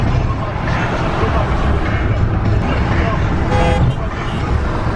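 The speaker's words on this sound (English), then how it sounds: "Why are they honking at me?" Car horns toot at a trailer amid road traffic noise, with people talking loudly over the steady vehicle rumble and a short honk near the middle.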